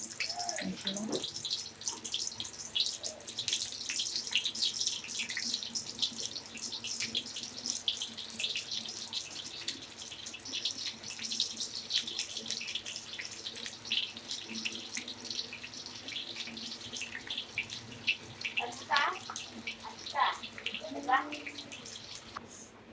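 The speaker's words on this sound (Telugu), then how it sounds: "ఇక నూనె కాగింది, మిల్ మేకర్ వేస్తున్నాను." Soya chunks (meal maker) fry in hot oil with a steady, soft sizzling hiss that goes on throughout. A few light clinks and stirs come near the end.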